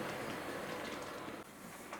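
A Hornby Queen Maude model locomotive, R3855, runs slowly, giving a faint, steady, continuous mechanical whirr and rumble with no talking.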